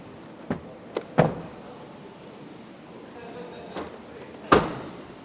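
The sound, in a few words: closing the side door of a Wuling Air EV car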